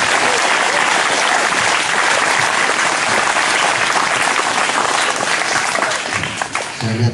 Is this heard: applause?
yes